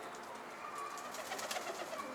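A pet pigeon or dove coos softly at close range in a quiet room while drinking water, its low murmuring calls repeating over a faint background.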